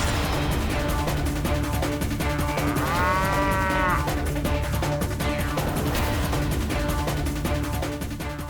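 A buffalo moos over a loud, busy background of music and noise, with one drawn-out low bellow standing out near the middle and a fainter second call after it.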